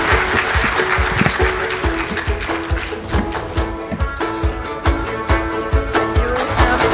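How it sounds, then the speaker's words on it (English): An audience at a Teachers Service Commission strategic plan launch claps for a presenter, a sustained, fairly loud burst of many hands with individual sharp claps standing out through the room. "You have to clap for my colleague"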